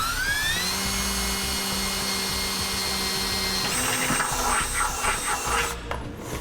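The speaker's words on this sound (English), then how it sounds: "it's time to use a 1/2 inch drill bit and drill it out." A drill with a 1/2 inch bit bores a hole for a trailer hitch, a steady loud whine that drops in pitch midway as the bit bites and roughens before easing off, with no voices.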